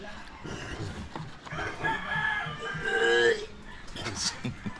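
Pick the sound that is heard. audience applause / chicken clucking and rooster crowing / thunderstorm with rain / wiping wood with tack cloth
chicken clucking and rooster crowing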